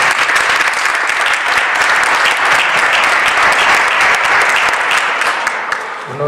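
Loud, sustained applause from an audience at a live Christmas concert in 2015, a dense wall of clapping held evenly for several seconds before easing slightly at the end.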